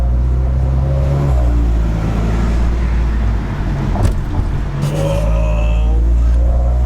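Steady car road noise while driving along a French motorway, a continuous low rumble and tyre roar filling the cabin, with a brief dip and slight engine swell midway.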